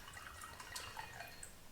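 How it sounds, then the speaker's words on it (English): Liquid from a freshly opened bottle pours into a glass over ice, a quiet, close trickle with scattered light drips and clinks and no voices. "Brand new bottle, no tricks, and I'll just pour myself on."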